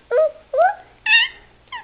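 A toddler imitates a seal with four short, whimpering barks, each rising then dropping in pitch, spaced about half a second apart.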